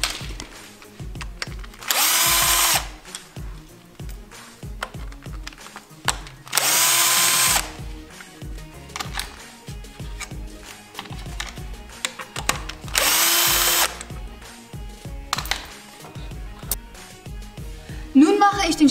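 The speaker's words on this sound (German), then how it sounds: "Jetzt kann man das Thermostatgehäuse abschrauben. Hier, hier und hier. Das mache ich mit einer 10er Nuss." A power tool with a 10 mm socket unscrews the thermostat housing on a BMW M50 engine, whirring in three short bursts amid clinks of metal and someone talking between them.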